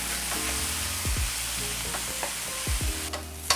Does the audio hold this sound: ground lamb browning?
yes